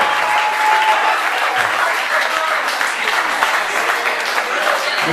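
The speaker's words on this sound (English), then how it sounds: "let's have one last round of applause for all our Pink Floyd seniors." A large audience applauds graduating seniors at a School of Rock senior recognition show, steady dense clapping throughout with a faint whoop or two mixed in.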